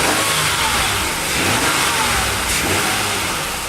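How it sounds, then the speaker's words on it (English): Cold 2003 Ford Taurus engine revved moderately after a cold start, a loud, close, steady roar that swells briefly and then eases off. "Don't want to rev her too much right now because it's cold"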